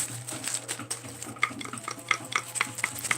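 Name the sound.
wooden spoons rattling in a mail package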